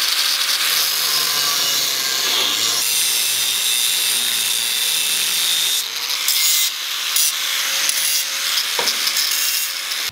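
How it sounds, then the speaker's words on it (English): Trimming excess metal off two tabs on a camper's flat bed, a loud, close, continuous grinding and rasping cut that runs for about ten seconds with slight changes in pitch and a few brief scrapes. "Just got to cut the excess off those two tabs there and shape them."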